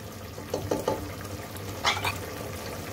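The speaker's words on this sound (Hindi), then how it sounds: "बस अब इसको मैं भून लूँगी 6 से 7 मिनट के लिए इसको मैं भूनूंगी" Minced meat, potatoes and peas sautéing in a pan give a low, steady sizzle, with a few soft scrapes and stirring clicks from the spoon rising briefly above it.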